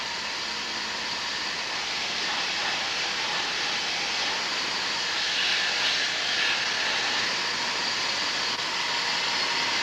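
Compressed air rushes steadily through a CutterMaster manifold while cleaning solution evaporates, a loud continuous broadband hiss lasting throughout with no talk.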